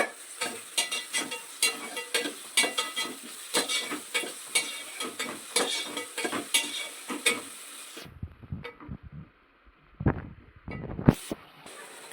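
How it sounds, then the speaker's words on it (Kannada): Tomato and green chili tempering for a North Karnataka dish sizzles and bubbles steadily in a pan with repeated stirring scrapes, then the frying drops away after about eight seconds, leaving a few clatters and quieter handling sounds. "ನೀಟಾಗಿ ಕುದಿಯುತ್ತದು."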